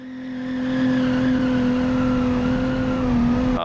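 A 1956 family sedan's engine drones steadily at a strained, high pitch as the car is driven in BeamNG, the tone holding nearly constant with a slight rise near the end.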